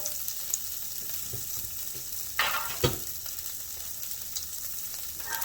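Corn and peppers sizzle steadily in a hot pan while making lobster corn salad, a soft continuous frying hiss broken by a few louder scraping stirs near the middle, with no talk.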